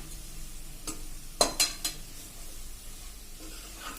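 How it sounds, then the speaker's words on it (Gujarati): Flour roasting in hot ghee over a slow flame for Kutchi adadiya, a soft continuous bubbling sizzle broken by a few sharp metallic clinks of a spoon against the pan near the middle. "આપણું ઘી ગરમ છે એટલે જો તરત જ એકદમ સરસ બબલ્સ આવી ગયા"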